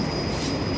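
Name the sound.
metro train at station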